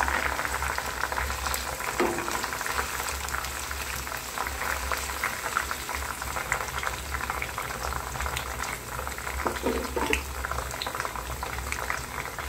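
Homemade hair oil boils on a stove, giving a steady close bubbling and simmering with a low rumble beneath, and a few small pops and clinks rise above the even, constant bubbling.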